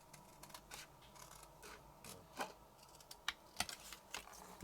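Scissors cut across card stock during handmade card making, giving a handful of faint, sharp snips and crisp clicks spaced irregularly in a quiet room.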